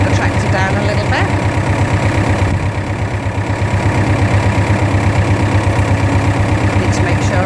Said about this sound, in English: So I've just slowed down the gear, so I've gone into low box so that I've just slowed the pace of the tractor down a little bit.